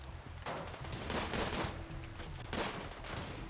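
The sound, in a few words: gunfire in the video game Rimworld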